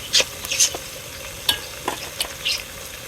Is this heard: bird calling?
no